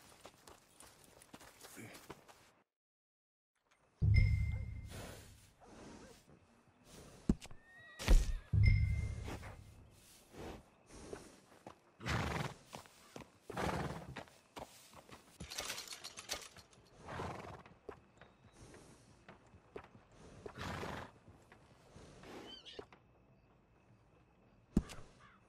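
A horse in Red Dead Redemption 2 neighs and whinnies amid clip-clopping hooves and heavy thunks, close and fairly loud with irregular bursts, over a quiet background.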